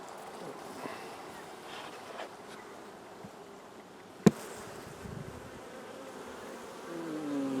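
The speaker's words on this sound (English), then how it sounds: "Yeah, there's some bees, eh?" Honey bees buzz around an open hive during a fall Thymovar mite treatment, a soft, steady hum of foragers with one sharp knock partway through and faint handling noise.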